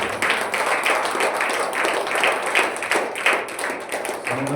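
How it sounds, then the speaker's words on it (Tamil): Clapping from a church congregation at a gathering for people with disabilities in Thoothukudi, a steady dense patter that holds at an even level across the whole stretch with no voice over it. "அவங்களுக்கு நல்ல ஒரு கைத்தட்டு கொடுக்குறாங்க"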